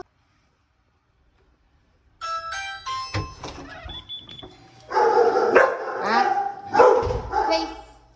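Dogs at a training session give a few sharp barks and yips, near and fairly loud, mixed with a person talking to them over the second half.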